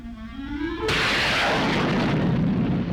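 A rocket carrying a test animal lifts off: a rising tone gives way to a sudden loud, roaring blast that holds steady as a broad, rumbling wash of noise.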